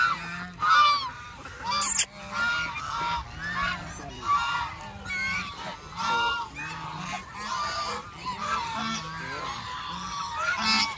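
Large ducks on a lake at a mini zoo, giving loud, repeated honking quacks that overlap in a steady, close chorus with no pause.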